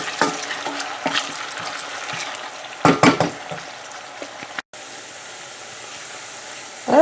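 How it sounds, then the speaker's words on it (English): Onions frying in a pan for Ghana-style tomato stew give a continuous close sizzle, broken midway by a few sharp utensil clatters against the pan and a brief dropout. "We're gonna fry the onions."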